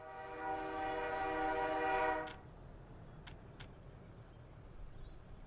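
A train horn sounds from a freight line in the city-building game Workers & Resources: Soviet Republic, one steady blast of about two seconds followed by a few faint clicks and quiet rail ambience, with no talking.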